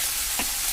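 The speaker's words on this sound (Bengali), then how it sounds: "কড়াইতে ঢেলে দেওয়ার পর একটু নাড়াচাড়া দিলাম।" Mixed vegetables hiss loudly in a hot wok as they are stirred, a dense continuous sizzle with a brief scraping stir stroke partway through.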